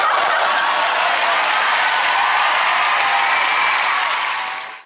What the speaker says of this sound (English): it is met with a thunderous applause